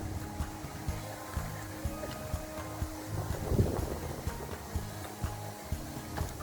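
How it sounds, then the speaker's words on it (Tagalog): Strong wind buffets the microphone in a constant rumbling roar, with gusty thumps throughout and no voices. "medyo malaki ang hangin dito"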